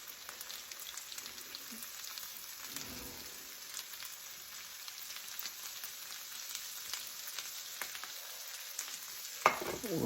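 Cream corn frying in a pan, a steady close sizzle running throughout with soft scraping stirs, no voices.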